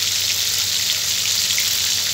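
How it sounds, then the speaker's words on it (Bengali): Fish heads fry in hot oil in a wok, giving a steady, dense sizzle with fine crackling spatter that runs loud and unbroken through the whole stretch, with no talking. "সবার প্রথমে মাছের মাথাগুলো কড়াতে দিয়ে দিয়েছি, ভাজা হচ্ছে।"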